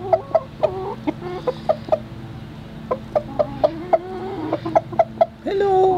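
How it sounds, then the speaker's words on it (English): Rooster with blonde-looking plumage by winter greenhouses, giving a rapid run of sharp, close clucks in irregular bursts, ending with a short drawn-out crowing call over a steady low background hum. "I call that rooster David Bowie."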